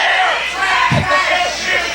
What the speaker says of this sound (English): Crowd getting on the case of Robbie Walsh